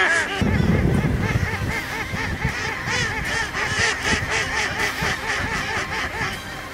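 Decoy hen ducks of a long-kept strain quack steadily in a chorus of honking, nasal calls, close and continuous, with faint background noise underneath.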